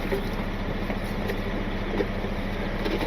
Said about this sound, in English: So you notice I just left the truck idling.